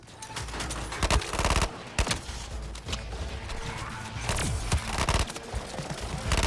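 Dense bursts of automatic gunfire from the video game Suicide Squad: Kill the Justice League, laying down support fire in rapid volleys that come close and loud, with short gaps between the bursts.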